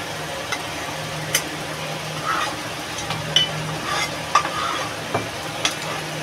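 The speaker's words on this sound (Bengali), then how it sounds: "আমি একটু কালো জিরা ধনে ভেজে নিলাম" Nigella and coriander seeds sizzle quietly in a hot pan while a spoon stirs and scrapes now and then, with a few sharp clicks over the steady frying.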